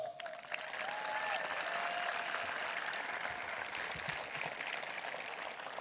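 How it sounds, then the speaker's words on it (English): Sustained audience applause at a 2022 high school commencement ceremony for graduating students, steady and full throughout with no talking. "join me in giving all of our students adorned in blue and yellow graduation cords a round of"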